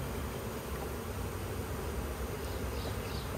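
Honeybees buzz steadily inside an open Apimaye hive while frames are handled, a dense, continuous hum close by with no talking.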